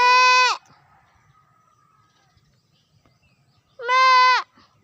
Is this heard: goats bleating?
yes